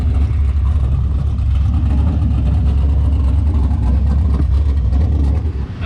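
Drag racing car engine warming up at a drag strip, a loud, steady, close rumbling idle with deep low-end throb, holding for several seconds before easing slightly at the end.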